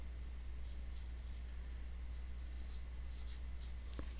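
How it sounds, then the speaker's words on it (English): A pen or marker writes the word red on an oil painting color chart, giving faint, continuous scratchy strokes close by in a quiet room, with a brief tap near the end. "I will start with writing the word red"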